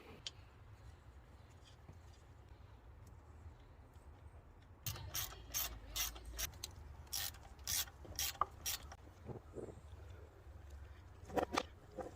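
A hand ratchet tightening bolts back onto a Lexus engine, bursts of rapid close clicking strokes after a quiet start, with a few more clicks near the end.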